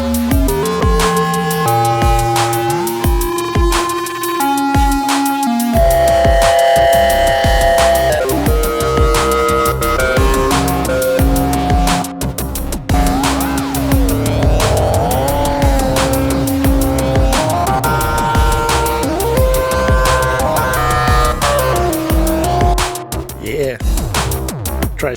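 An SSF Zephyr synthesizer oscillator in flip mode plays loud, steady, buzzy harmonic tones. Its pitch jumps between levels and swoops in glides, with a bright, dense texture throughout.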